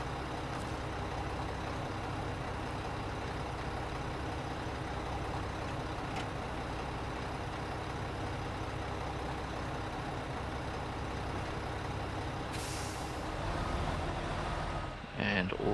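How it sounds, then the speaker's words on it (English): Heavy truck engine rumbling steadily as the truck backs up closer to a dropped shipping container during a container recovery job, loud and continuous, with a short hiss like an air brake near the end. "and I'll move the truck back a bit closer"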